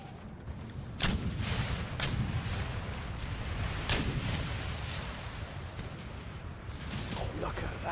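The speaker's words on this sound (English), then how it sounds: "I've not seen a barrage of this magnitude before" Heavy artillery barrage in the video game Empire: Total War, with several sharp cannon blasts standing out over a dense, continuous rumble of distant gunfire and battle noise.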